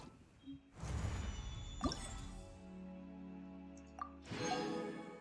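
Water drips and splashes in Genshin Impact: a few separate wet, squishy splashes with bright plinking drips between them, fairly close and otherwise quiet.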